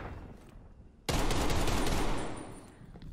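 Gunfire in Call of Duty Cold War erupts abruptly as a dense burst of rapid shots lasting about a second and a half, loud and close, then tails off into quieter rumble.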